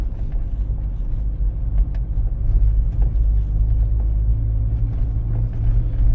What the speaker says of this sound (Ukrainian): Дорога тут така погана, я зараз їду на першій передачі 10 е, км на годину.